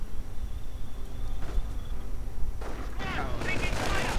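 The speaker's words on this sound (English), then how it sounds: "Mortar opening up." Mortar fire in a World War II strategy game match, with sharp distant thumps and crackling gunfire over a steady battle din, followed by a denser burst of shots.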